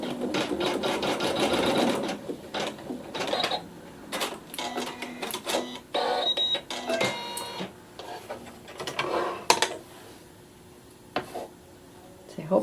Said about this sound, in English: we'll sew a tack down stitch for step 8